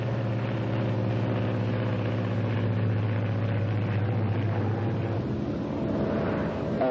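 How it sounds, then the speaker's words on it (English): A propeller airplane flies in a 1943 acrobatics training film, its engine a loud, steady droning hum that holds nearly unchanged from start to finish, with no voices. "The plane is in normal attitude."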